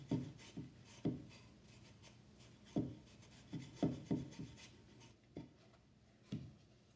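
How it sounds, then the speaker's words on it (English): Stain being wiped by hand onto a wooden sign, a faint series of soft, irregular rubbing swipes separated by short pauses, close and quiet. "And I'm just wiping the stain on."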